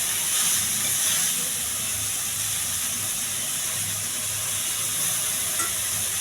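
Curry leaves and ginger garlic paste frying in a pan give off a steady, close sizzle and hiss that runs unbroken throughout.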